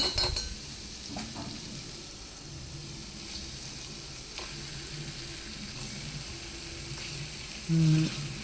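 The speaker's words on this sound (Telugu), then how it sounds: "ఇప్పుడు చేప ముక్కల్ని ఇందులో వేసేద్దాం." Pieces of fish simmering in hot oil for a tamarind fish curry give a low, steady sizzle throughout, with a brief utensil clink near the end.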